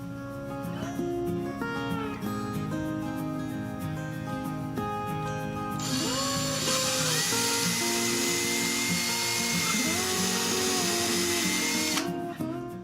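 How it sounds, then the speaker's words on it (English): A power drill drives 1 5/8 inch drywall screws into a wooden ballast box for a Kubota L3901 tractor, whining loudly and close, with a higher-pitched screeching run in the middle as a screw bites in. "Time to screw it together."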